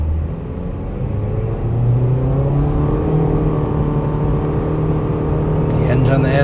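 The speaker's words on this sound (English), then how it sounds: "Let's do some acceleration testing, guys." A 2026 Honda HR-V accelerating hard on an open road during a test drive: a loud, close engine note climbs steadily in pitch and stays strong throughout, with no voices.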